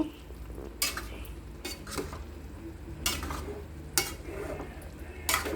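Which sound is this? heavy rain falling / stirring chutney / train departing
stirring chutney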